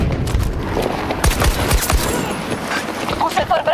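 M39 marksman rifle firing in Battlefield 2042, rapid repeated sharp shots over busy battlefield noise, with someone talking throughout.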